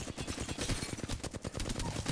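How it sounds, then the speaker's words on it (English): Rapid automatic gunfire from the video game Apex Legends rattles off in a fast, steady stream of sharp shots, loud and continuous with no talking. "You just want to run around and start shooting your enemies."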